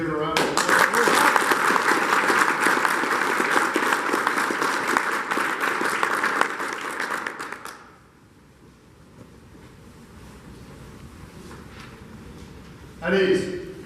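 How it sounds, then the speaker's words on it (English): Audience applause at an Army National Guard ceremony, a sustained burst of clapping for about eight seconds that fades out, followed by quiet room tone and a brief flare of noise at the end. "Just give it a round of applause."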